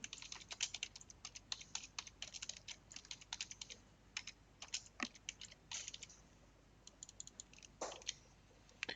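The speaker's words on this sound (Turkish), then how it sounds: "Web sitenin adını yazıyorum." Rapid clicking keystrokes on a computer keyboard as a website name is entered, coming in irregular bursts with brief pauses, close and fairly quiet, with no voices.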